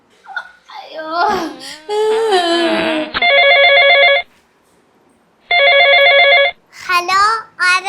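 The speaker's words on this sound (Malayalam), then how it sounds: "ആരാണ് എന്റെ ഫോണിൽ വിളിക്കണത്" A voice chatters and giggles, then an electronic phone ring sounds loudly in two long bursts separated by a pause, before more voices.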